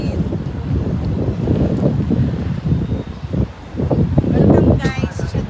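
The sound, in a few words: wind blowing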